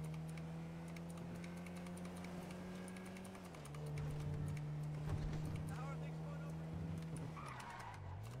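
A car driven recklessly in the video game Warzone, its steady engine drone holding a near, loud pitch that dips as the tires skid and squeal mid-turn, with voices under it.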